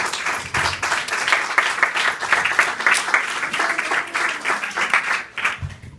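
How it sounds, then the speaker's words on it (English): An event audience applauds its board members with dense, sustained clapping from a crowd indoors, steady for several seconds before tapering slightly. "give them a round of applause, but I guess we'll just give them a second one"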